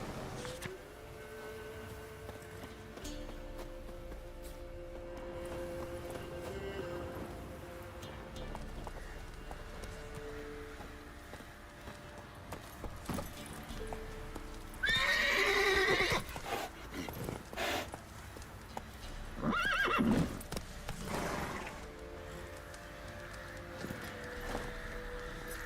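In The Witcher 3, the horse Roach clip-clops along and gives several loud whinnies and neighs midway, over game ambience, with occasional talking.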